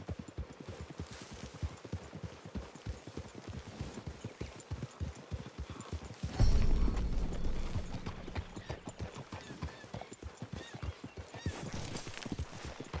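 Horse hooves clip-clopping steadily in Red Dead Redemption 2, a dense rhythmic patter of several horses walking through trees, with a louder rumbling swell midway.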